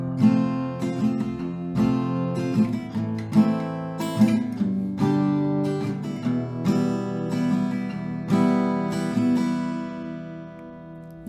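Acoustic guitar strums the verse of a song at a slow pace, with steady rhythmic down-and-up strokes and chord changes, played close and moderately loud with no voices.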